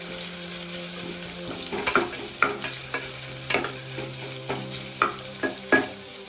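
Thinly chopped onions frying in ghee in a pan for ghee rice, a steady sizzle broken by repeated spatula scrapes and taps, close and loud, no talk.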